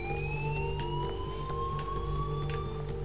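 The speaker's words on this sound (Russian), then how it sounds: "Сюда едут полиция и пожарные со всего Аркадия Бэй." Police and fire engine sirens wail together in the video game Life Is Strange, rising tones held steady over a low rumble, fairly loud and continuous without speech.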